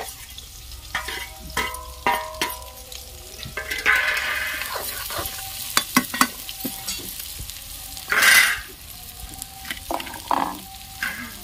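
Onions frying in a pan over a village cooking fire, a steady sizzle broken by repeated scraping and stirring clatters and one louder burst of hissing midway, with no voices.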